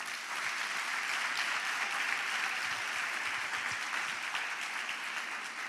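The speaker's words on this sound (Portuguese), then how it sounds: "Dê um aplauso a Jesus." Church congregation applauding, a dense, sustained roar of many hands clapping that holds at an even level without a break.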